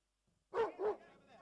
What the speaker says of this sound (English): They heard a dog barking and a crowd of people outside.